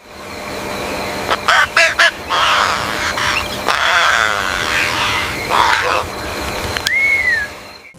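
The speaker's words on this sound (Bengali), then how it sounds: "বনের পাখিদের সুর শুনল অন্য সব প্রাণী" Animated night forest scene with a chorus of birds calling and honking together, goose-like cries and chirps overlapping in bursts, ending with a rising whistle.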